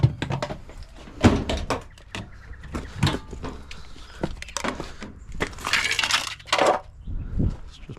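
Bottom piece being pulled out of a scrapped dishwasher, with close clunks, rattling metal and scraping plastic in irregular bursts, some hissing scrapes, no talk.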